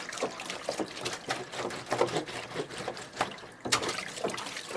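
Water trickles and drips irregularly from a large leaking washtub used for laundry, with splashy drops and small pours close by, as a radio drama effect with no voices.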